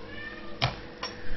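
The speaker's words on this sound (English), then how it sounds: "I've even got the cat screaming out he wants some." A cat meows, wanting fish, with two short cries close together over a steady outdoor background.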